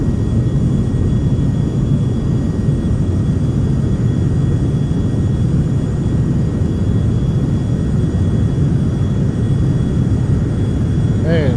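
Inside a small plane, a steady, loud engine drone fills the cabin without letup, a constant low roar with a faint high whine riding above it.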